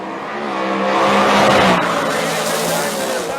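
A Cummins diesel drag car and a nitrous race car roar down the strip together, a loud sustained engine howl that swells and fades slightly, with a commentator talking over it.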